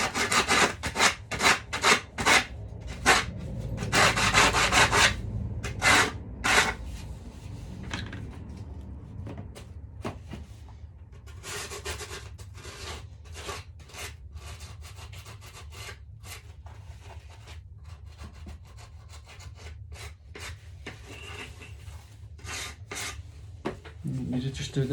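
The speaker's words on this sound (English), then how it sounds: "I'm just going to use the edge of it like a little sanding disc." Rasping, rubbing bursts of a small disc edge sanding the rim of a custom moth creature helmet, close and intermittent, with louder strokes early and lighter scuffing later.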